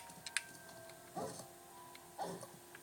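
Two short barks from the dog Fang in the Lego Harry Potter Years 1-4 video game, about a second apart over quiet game ambience, with a small click beforehand.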